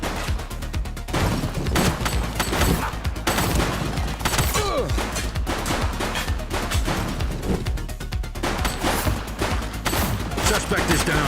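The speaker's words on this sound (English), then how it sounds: "He's shooting!" Rapid volleys of gunfire in the police game The Precinct, sharp shots crackling in quick irregular bursts that run nearly without pause, loud and close, with game voices and sirens faintly mixed beneath.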